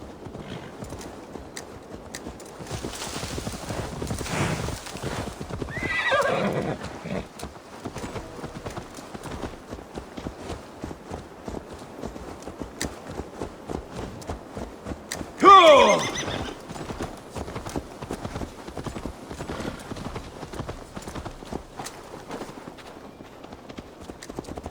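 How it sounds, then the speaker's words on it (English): Horse hooves clip-clop steadily in Assassin's Creed Valhalla, with loud whinnies breaking in twice, once near the start and a sharper neigh midway, over faint game ambience. "Let's return the horse."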